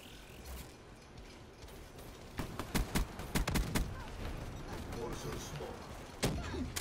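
Haymaker shotgun in Black Ops 3 fires a quick cluster of sharp shots in mid-stretch and another near the end, set against ongoing game noise with a voice talking underneath.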